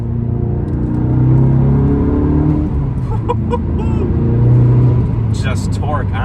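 A VW MK7 GTI accelerating, heard from inside the cabin as a steady low engine drone that swells and eases twice over several seconds, with brief faint ticks and chatter near the end.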